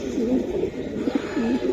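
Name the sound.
pigeons cooing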